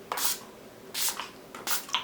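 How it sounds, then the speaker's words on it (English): Urban Decay De-Slick setting spray misted from a pump bottle, three short hissing bursts spaced evenly apart, close to the microphone, with no voices. "First, I start off with the Urban Decay setting spray."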